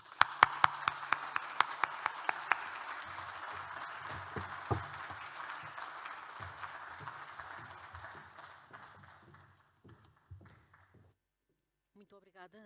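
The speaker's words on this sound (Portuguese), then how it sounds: "Uma salva de palmas para ele, por favor." Audience applause at the opening session of a culture and social impact conference at Serralves in 2021. Scattered hand claps begin the clip and merge into steady clapping that swells, then thins out and fades to near silence around eleven seconds.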